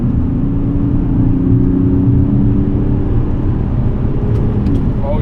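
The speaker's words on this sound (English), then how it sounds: "we can try some little acceleration here" A Mazda CX-60 D254 diesel SUV accelerates from about 100 km/h on a straight road, giving a steady cabin drone of engine and road rumble that holds constant throughout.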